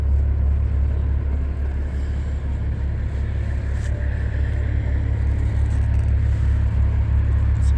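Heavy, steady engine drone and road rumble from inside a Peterbilt 379 truck with a 625-horsepower engine, pulling a flatbed trailer, continuous and loud throughout.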